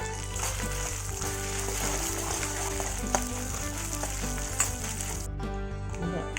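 Green chillies fry and sizzle steadily in a hot pan with oil for a coriander chutney, a continuous close crackle with a few louder pops, dropping away near the end.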